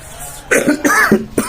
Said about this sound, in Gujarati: થોડી ઉધરસ પણ થઈ ગઈ છે